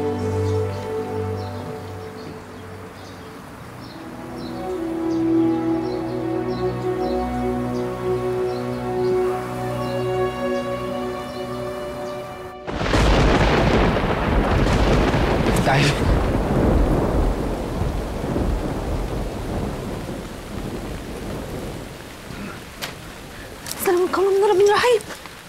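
Steady heavy rain with a sudden loud crack of thunder partway through, followed by a long rolling rumble, in a dramatic scene beneath a loaded, stormy sky, with tonal background music underneath at first.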